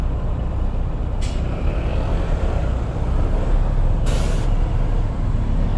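Heavy traffic of large trucks and buses near Tanza, Cavite rumbles continuously, with two sharp hissing air brake releases cutting through the low engine drone.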